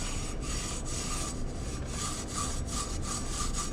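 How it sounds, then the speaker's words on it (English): A Scotch-Brite pad soaked in alcohol scrubs the front brake rotor of a 2016 Honda CRF230F dirt bike, giving a steady, close abrasive rasping with rhythmic back-and-forth strokes throughout. "take a newer piece of Scotch-Brite, put some alcohol on it."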